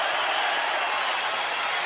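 Baseball stadium crowd at a Rangers home game against the Angels applauding and cheering in a dense, steady wash of clapping, distant and continuous.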